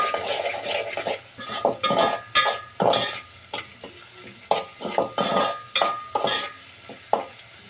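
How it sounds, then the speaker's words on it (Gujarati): Sea lepta fish curry with onions is stirred in a pan, with rhythmic scraping strokes about twice a second over a constant close sizzle. "હવે આપણે એને હલાવી નાખીશું"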